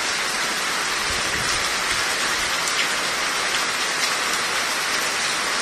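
Heavy rain pours down steadily in Abohar, a dense, even hiss of drops hammering surfaces throughout with no pauses and no voices.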